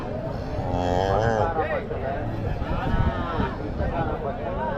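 Native calves and young bulls at the Matrapalli cattle market, with loud nearby mooing and bellowing rising over crowd chatter and talk.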